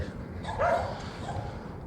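A single dog bark, muffled and mid-distance, rising briefly over a low rumbling background.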